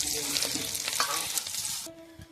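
Small chopped prawns fry crisp in hot oil in a pan, a loud close sizzle with light stirring that drops away abruptly near the end.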